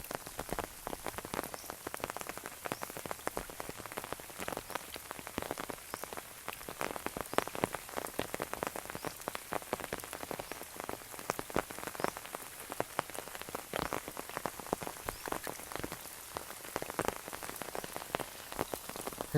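Rain falls steadily on a surface during the rainy season, a dense patter of drops close by that keeps an even intensity throughout with no voices.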